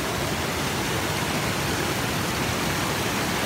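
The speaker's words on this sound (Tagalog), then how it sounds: "Yan, lakas ng agos." Powerful rushing water at Ditumabo Mother Falls in San Luis, Aurora, a dense, loud, unbroken roar filling the whole moment with no voices.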